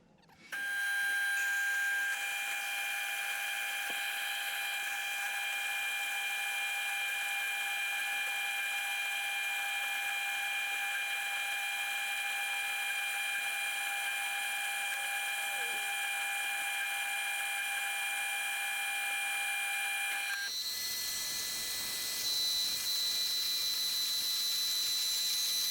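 A bandsaw cuts through two clamped steel plates at a 45-degree angle, giving a steady loud mechanical whine with high ringing tones that runs for about twenty seconds before the cut ends and the sound changes abruptly.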